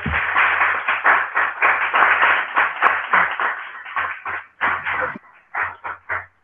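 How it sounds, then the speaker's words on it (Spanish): An audience at a Latin American social theory lecture applauds a doctor after his talk, a fairly thin patter of clapping heard over a band-limited line that breaks into separate bursts and trails off toward the end. "les, damos un aplauso"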